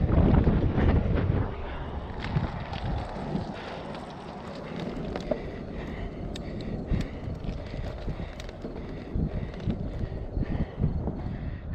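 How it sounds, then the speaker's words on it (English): Headwind buffeting the microphone while riding a Bacchetta CA2 recumbent bike on a rural road: loud, gusty low rumble throughout with rattles and faint clicks, no talking. "Slight headwind."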